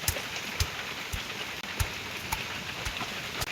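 Rain falling outdoors under heavy cloud, a steady soft hiss broken by scattered sharp drip taps, with no voices.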